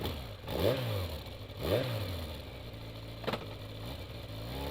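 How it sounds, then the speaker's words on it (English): Motorcycle in the Spirit Hunter NG video game revs and pulls away, two quick rising engine sweeps followed by a brief clatter, fairly quiet with no talking. "I grab my motorcycle at the apartment and zip off to Shinza Station."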